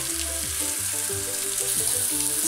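White wine hitting a hot pan of toasted rice for Monza-style risotto, a loud steady sizzle and bubbling hiss that holds for the whole span and swells slightly toward the end, with no talk.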